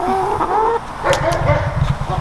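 Hens clucking near their coop, several close, loud, overlapping clucks and squawks in quick succession.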